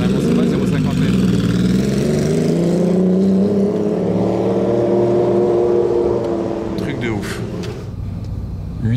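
A Ferrari F50 engine roars through the streets of Monaco, a loud, sustained rising howl that swells and then fades as the car passes close by.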